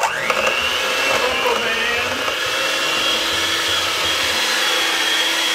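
Electric mixer whipping butter and sugar for an Earl Grey tea bundt cake, a steady close whirring drone with a brief rising pitch at the start as the beaters spin up, running alone without talk.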